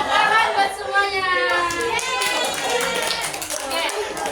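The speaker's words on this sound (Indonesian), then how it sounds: "tepuk tangan buat semuanya." Children in a classroom clap together for everyone, a fast, close, scattered patter of small hands mixed with lively kids' chatter and voices throughout.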